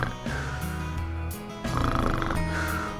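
A man imitates snoring with his voice, giving rough, rattling nasal snores in a couple of long drawn-out breaths, loud and close with no other talk.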